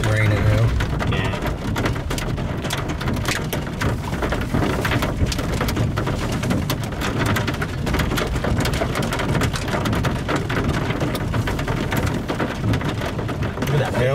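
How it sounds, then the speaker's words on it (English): Heavy rain and hail pelt down steadily during a severe thunderstorm near Turkey, Texas, with dense rattling impacts throughout and distant thunder rumbling low. Voices talk intermittently over the storm noise. "Hail's increased quite a bit."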